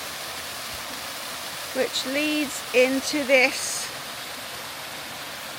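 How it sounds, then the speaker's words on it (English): A small waterfall in a garden in Snowdonia, near a National Trust bothy, gives a steady, soft rushing wash that continues throughout while a person speaks briefly over it. "to this very, very, very lovely little waterfall"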